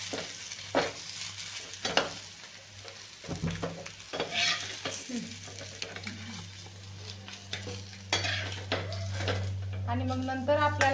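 Eggs frying in a pan for dhaba-style egg curry, a constant sizzle under repeated scraping and clinks of a spatula turning and lifting them, close by, with a low hum throughout.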